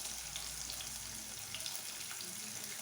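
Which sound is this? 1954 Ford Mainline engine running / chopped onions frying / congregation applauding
chopped onions frying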